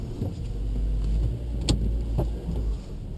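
A car engine idles with a low steady rumble while the car is shifted into gear, with a few clunks and clicks from the gearbox and cabin heard close up.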